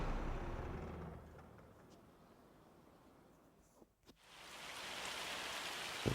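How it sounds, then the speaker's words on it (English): Steady rain pattering in Farming Simulator 25, a broad even hiss that thins briefly near the middle, then returns strong and continuous to the end with no voices. "We've got rain, but we are due a bit of sunshine."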